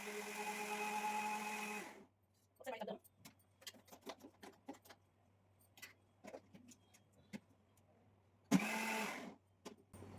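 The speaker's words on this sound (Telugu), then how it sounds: "ఇలా కలిపేసేసుకుని మిక్సీ వేసేసుకుంటే మొత్తం సమంగా అరిగిపోతుంది" A mixer grinder blends tomato coriander chutney in two loud whirring motor bursts, one at the start and one near the end, with clinks and handling sounds between.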